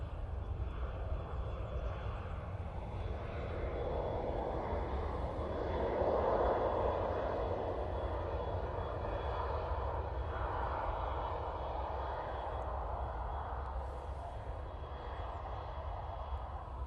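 A Ryanair airliner arriving at Manchester Airport, heard as a steady, far-off roar of jet engines that holds through the whole stretch and swells a little midway, with no talk over it.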